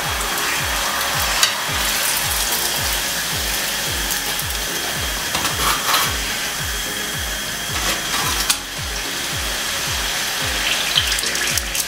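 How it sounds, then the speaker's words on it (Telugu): Malida dough pieces frying until reddened for a Muslim wedding sweet, a loud continuous sizzle overlaid with a fast regular rhythmic pulsing and occasional scraping clatters, with no voices. "ఇలా వేగాలి, ఎర్రగా ఇలా వేగిన దాన్ని పక్కన తీసేసుకుందాం"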